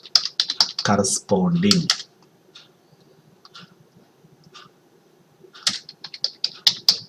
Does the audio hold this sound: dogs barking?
no